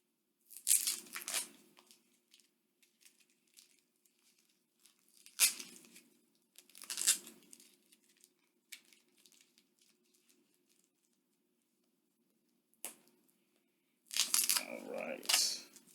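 Blue tape is peeled off comic packaging in several sharp, short tearing rips separated by quiet gaps, close and fairly faint, with a final longer crinkling tear.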